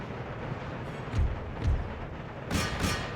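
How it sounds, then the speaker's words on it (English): Cannon fire rolls across a battle in the Empire: Total War strategy game, with four dull, booming thumps at uneven intervals over a steady noisy battlefield background, the last two sharper and closer together. "Cannons target that, please."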